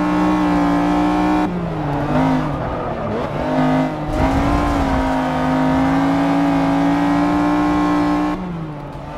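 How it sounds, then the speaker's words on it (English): A Mercedes race car engine in Forza 6, racing the hills of Australia, revs loudly and steadily with strong harmonic drone, rising and dipping with gear shifts and throttle lifts throughout, close and alone. "But guys, listen to the engine of this."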